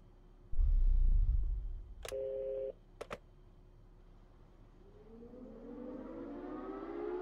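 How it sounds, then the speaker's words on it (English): In the indie horror game Security Booth, a siren tone slowly rises and swells toward the end, following a low rumble and a couple of short electronic beeps; no voices. "The siren again."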